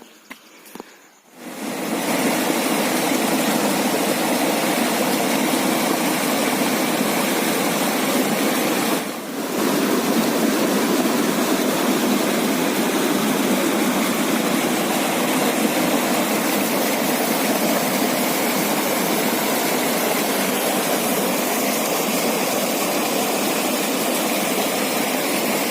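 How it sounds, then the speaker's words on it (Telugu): Water rushing down the Akunoor waterfall makes a loud, constant roar, broad and unbroken for the whole stretch, with a brief dip near the start. "పైన వాటర్ కిరాకు పోస్తున్నాయి"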